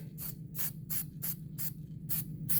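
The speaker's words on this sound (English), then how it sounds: "Now, go ahead and give it a spray." Short bursts of aerosol spray hiss in a repeated rhythm, about six quick sprays close by, with a low hum underneath.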